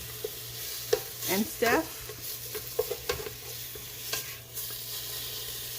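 Bacon sizzles quietly in a soup pot for split pea soup while a utensil stirs and scrapes through it in a few brief bursts. A voice speaks briefly at one point.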